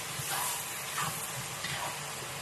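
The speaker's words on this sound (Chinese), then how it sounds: "把料汁倒入，把它炒均匀，最后倒入花生米" Kung Pao chicken stir-fried in a wok with sauce and peanuts added, giving a steady broadband sizzle with a few soft scraping stir strokes, close and moderately loud with no voices.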